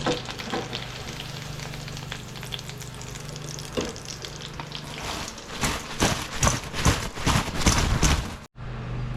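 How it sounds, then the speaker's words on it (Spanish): Yuca pieces fry in hot oil with a dense, continuous sizzle that grows busier and louder midway, broken by crackling bursts and stirring clatter before cutting off abruptly near the end. "Vamos a continuar acá friendo más de nuestras yuquitas"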